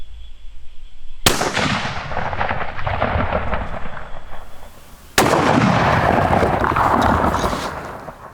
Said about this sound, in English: So I'm about to start to fire the 67 grains